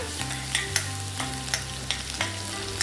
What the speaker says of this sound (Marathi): छान असं आता हे आपण परतून घेऊया.